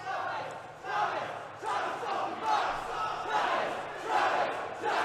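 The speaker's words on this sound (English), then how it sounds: "there's the Travis Banks contingent. I would say it's louder than Starr" Wrestling crowd at a Defiant Wrestling championship match chanting in rhythmic repeated waves and cheering, loud and continuous across the arena.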